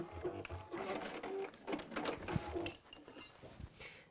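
A sewing machine stitches fabric in a series of short, uneven bursts, its quick mechanical clatter starting and stopping close by with small handling clicks between runs.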